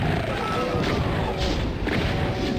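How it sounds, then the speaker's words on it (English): Shotguns and pistols firing as former human enemies shoot each other in the Doom video game, with muffled booming blasts off to one side, fairly distant and blended into a constant rumbling game background. "the shotgun guys are killing each other"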